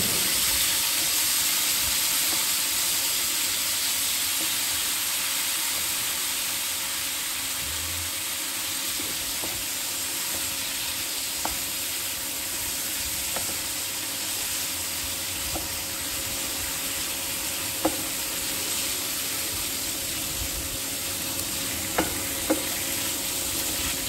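Raw mango pieces frying in oil for a sweet-sour pickle, a constant loud sizzle and hiss with occasional faint clicks of a spoon against the pan, no voices.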